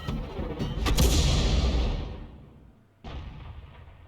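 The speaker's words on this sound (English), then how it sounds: "Firing a blind shot in." A tank gun in a World of Tanks-style video game, fired blind at a hidden Waffenträger auf Panzer IV, booms once with a heavy low-end blast that rolls off over two seconds before a second softer thud follows.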